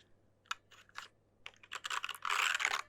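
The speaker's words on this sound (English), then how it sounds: "But it's a really nice keyboard." Clattery keystrokes on a metal-build mechanical keyboard, starting as sparse single presses and building into a fast, dense burst of typing near the end, close and clear with no voices.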